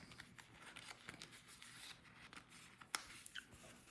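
Scissors snipping excess white sticker paper from around a Cthulhu Death May Die box sticker, quiet close-up cuts and paper rustling with one sharper snip near the end.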